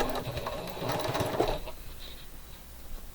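A sewing machine stitches a quilt block in a fabric studio, running in a quick, steady rattling burst for about a second and a half, then stopping and leaving faint room noise.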